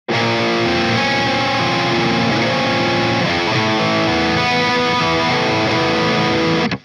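An electric guitar plays through a high-gain MLC amp with heavy distortion and clear note separation, loud and dense, ringing continuously before cutting off at the end.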